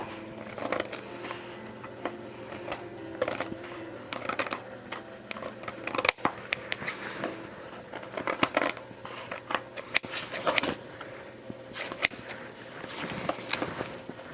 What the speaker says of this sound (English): there's a little bit of a white edge here from the page on the front that again bothers me. So I'm going to see if I can trim that off